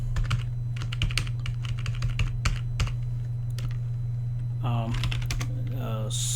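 Rapid clattering keystrokes as code is typed on a computer keyboard, coming in uneven bursts over a steady low electrical hum, with a brief voice near the end.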